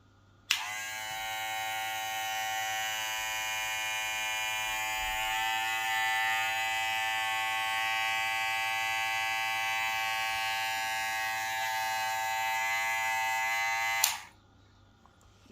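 A Wahl Senior cordless hair clipper runs steadily with its lever open, giving a loud, even buzz that starts abruptly and stops after about fourteen seconds with no talking.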